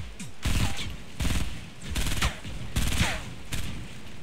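Rapid bursts of automatic gunfire from a Fortnite Battle Royale 50v50 match come in about six loud, close volleys, each a quick rattling string of shots with short pauses between.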